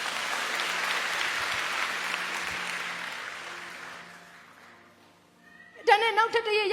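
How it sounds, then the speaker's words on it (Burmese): A church congregation at a Myanmar gospel service claps, a broad wash of applause that gradually fades away, followed by a short burst of another sound at the end. "လက်ခုပ်တီးပေးပါဦး"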